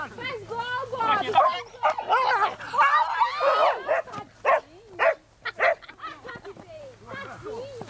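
Small dog at a family year-end gathering yips and whimpers excitedly in short bursts, close by, amid cheering voices of people talking and calling out during a backyard football game.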